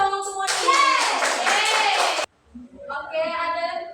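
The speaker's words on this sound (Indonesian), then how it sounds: "Tepuk tangan dong untuk Moni." A classroom of children claps for a classmate, a burst of dense hand clapping lasting under two seconds that stops abruptly, followed by a voice speaking.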